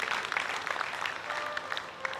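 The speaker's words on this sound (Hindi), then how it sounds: "एक बार ताली बजा कर इन्हें आशीर्वाद दीजिए" Applause for the musicians at a Shiv Mahapuran katha in Najafgarh, a steady crowd clapping of moderate loudness that holds throughout, with no talk over it.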